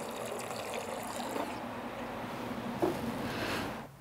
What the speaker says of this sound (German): ein bisschen Wasser füllen wir dementsprechend noch nach